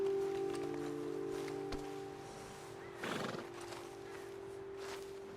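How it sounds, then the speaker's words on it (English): Horses in the video game Red Dead Redemption 2 give a short neigh and snort, with scattered hoof clops on the ground amid low outdoor ambience and a steady background hum, no speech. "Best leave the horses back a bit."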